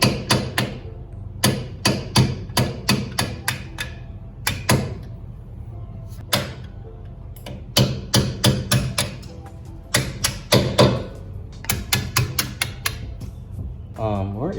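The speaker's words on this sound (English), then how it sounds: "So I've hammered it like a million times." A hammer strikes a stuck brake rotor on a Mercedes ML55 AMG again and again: sharp, loud, close metallic blows landing in irregular bursts of quick strikes separated by short pauses.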